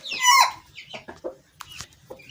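A full white rooster lets out a loud, close squawk followed by a string of short, throaty clucks with brief pauses between them.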